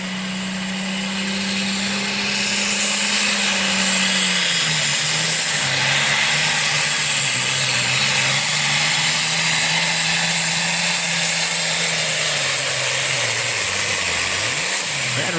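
At a truck and tractor pull, a John Deere 4430 tractor's engine roars steadily and loudly for the whole stretch, a sustained heavy drone that shifts slightly in pitch as it pulls, with no talk over it.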